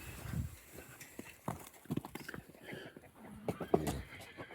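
An eight-month-old, good-sized young horse walks on a lead, its hooves striking in irregular, fairly quiet steps, with some shuffling between them.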